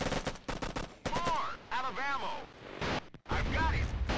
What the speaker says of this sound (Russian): Чуваки, кажется, лучше стреляют, чем мои прошлые напарники, которые умерли.